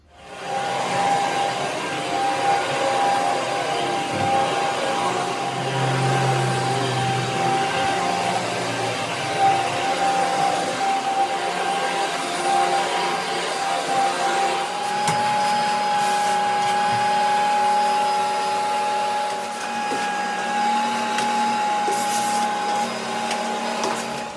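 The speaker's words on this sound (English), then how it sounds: "We finished the vacuuming." A vacuum cleaner drones steadily and loudly for the whole stretch while working over heavily soiled carpet in a rental condo, its whine shifting slightly as it moves; no talking.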